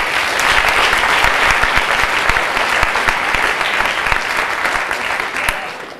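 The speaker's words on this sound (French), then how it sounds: "je vous propose d'accueillir sous vos applaudissements Révilo" A concert audience applauds loudly and continuously to welcome a slam performer on stage at a concert in Chaumont, dense clapping fading slightly at the end.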